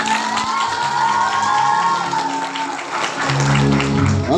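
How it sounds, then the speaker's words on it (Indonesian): A school audience at a storytelling contest about the Prophet Muhammad claps and cheers with shouts and whoops, a loud crowd roar sustained throughout. "Ayo tepuk tangannya, mana tepuk tangannya?"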